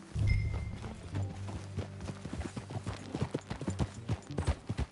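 Hooves clip-clop at a walking pace in Red Dead Redemption 2, a ridden horse stepping in a steady rhythm close by, with a soft snort early on and low background music.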